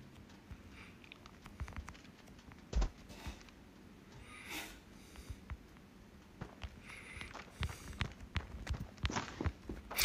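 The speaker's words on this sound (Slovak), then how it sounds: "počujem ho tu dupať" Footsteps of an enemy player in the mobile shooter Standoff 2 patter irregularly at low volume through the game's ambience, with occasional louder thumps and clicks mixed in.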